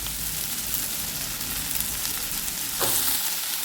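Sautéing onion and half a large capsicum in a pan for breadfruit kofta manchurian produces a continuous close sizzle and hiss, with a single utensil clink late on and no speech.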